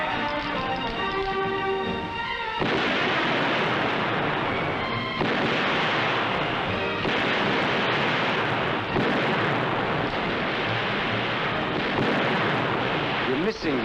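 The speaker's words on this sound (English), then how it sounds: "This is the first half of time fire. 5 shots in 20 seconds." Handguns fire on a sheriff's department police shooting range during timed fire: several loud, heavy shots ring out at intervals of a few seconds, each followed by a broad booming echo over a noisy, dense background.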